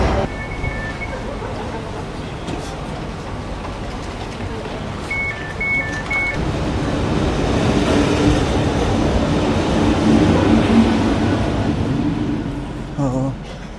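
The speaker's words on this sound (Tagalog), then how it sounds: "Ayan na yung tren guys." A train rumbles into a station in Budapest, Hungary, and grows louder, with a few short electronic beeps early on and a voice speaking over the rising rail noise.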